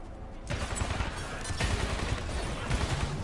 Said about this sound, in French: moi je vais tester les grenades